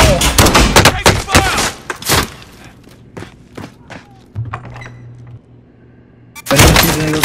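Gunfire in Call of Duty: Modern Warfare, a loud cluster of sharp close shots up front, scattered fainter cracks and thuds through the middle, then another heavy burst at the end, with voices between.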